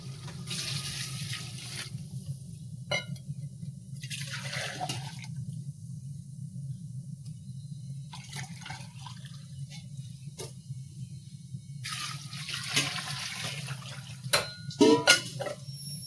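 Intermittent bursts of water rushing and pouring into a pot for cooking rice, over a low steady hum, with a few clinks near the end.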